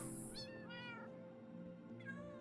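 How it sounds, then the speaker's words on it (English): Several Minecraft cats meowing in a game world, a few short rising-and-falling mews in quick succession and another after a pause, set over a low steady background hum. "And we got a lot of cats."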